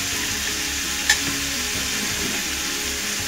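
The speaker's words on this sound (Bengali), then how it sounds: "ভালোভাবে এটা মিশিয়ে নেবো, মশলা আর এঁচুড়টা ভালোভাবে মিশিয়ে নেবো" Boiled jackfruit, fried potato and spices are stirred in a hot pan under a constant close sizzle, with soft scraping and one sharp clink of a utensil against the pan.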